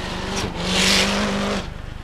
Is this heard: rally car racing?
yes